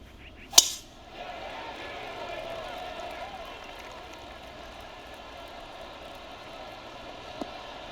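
Tee shot in the PGA Tour 2K23 video game, a single sharp crisp club strike near the start, followed by a faint whooshing ball flight over quiet ambient course noise.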